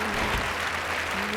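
Audience applause on a televised Nepali singing competition stage, a steady dense wash of clapping throughout, loud and continuous with crowd noise blended in.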